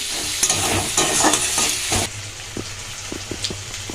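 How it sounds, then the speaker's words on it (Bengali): Fenugreek greens and eggplant fry in a pan with a close, lively sizzle and repeated scraping stirs, growing quieter halfway through and leaving a softer crackle with a few light clinks, with no talking. "পাঁচ সাত মিনিট এটা ভেজে নিলেই ভাজাটা হয়ে যাবে বেশিক্ষণ লাগে না"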